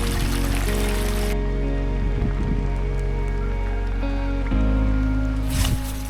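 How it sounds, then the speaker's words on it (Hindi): Steady, close rain hisses and patters over a foggy, cold mountain village near Chakrata in the Jaunsari region, a dense continuous wash of drops with no pauses. "अभी फॉग आके दोबारा से बारिश शुरू हो चुकी है"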